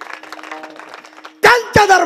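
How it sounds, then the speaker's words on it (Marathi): A kirtan audience clapping hands loudly in unison after a stretch of talk, two strong bursts of dense applause near the end. "जोरात टाळी वाजवा जोरात"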